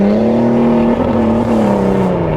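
A 550 hp diesel car's engine revs loud and close, holding a strong steady drone with slight pitch wobble throughout, no voices over it.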